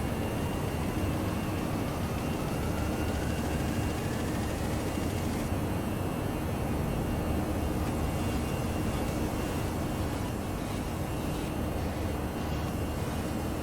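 A ToLiss A321 airliner climbing steeply while lightly loaded in a flight simulator, its engines producing a steady, broad roaring hiss with a faint rising whine, continuous and even throughout, without speech.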